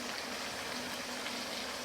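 Three cups of water poured into a pot of lamb curry over high heat, a steady close splashing stream that runs continuously at moderate level.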